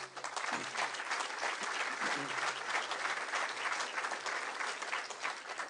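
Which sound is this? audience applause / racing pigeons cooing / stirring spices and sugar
audience applause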